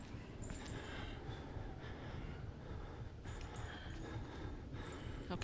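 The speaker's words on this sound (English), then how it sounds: "He's still sniffing and snorting and shit." A pursuing enemy in the horror game Outlast sniffs and snorts in heavy, repeated breaths over a low, constant rumbling ambience, moderately close and fairly steady across the stretch.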